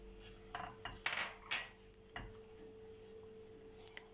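Rice pudding with sugar and vanilla is stirred in a pot, the spoon giving a few faint clinks and knocks against the metal, then soft scraping, all quiet and close with no voices.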